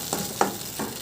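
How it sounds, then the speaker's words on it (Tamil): Cabbage manchurian mixture stirred in a pan, a few short scraping strokes with a faint sizzle, close and fairly quiet. "இது எல்லாமே நல்லா மிக்ஸ் பண்ணி விட்டுக்கலாம்."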